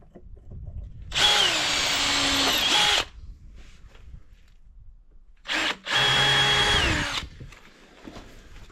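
A power drill whirs loudly in two long bursts, its pitch dropping as it drives into the end of a wooden plank, with a brief blip and quiet pause between.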